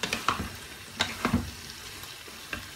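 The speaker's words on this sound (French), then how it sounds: "il faudra rajouter 3 cuillères à soupe de beurre fondu de samli" Melted samli butter sizzling in a biryani pot, a soft frying hiss broken by a few sharp scrapes and taps of a utensil, close up and without any voices.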